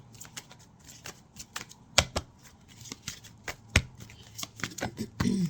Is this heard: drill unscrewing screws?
no